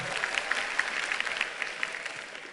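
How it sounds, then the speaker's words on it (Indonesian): An audience at the Indonesia Net Zero Summit 2023 gives a short burst of steady applause, a dense, even patter of many hands clapping without speech. "terima kasih yang tepuk tangan"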